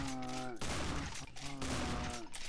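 Gunfire in a video game, rapid bursts of shots crackling in two main volleys with a short gap, loud and close, mixed with harmonic game sounds.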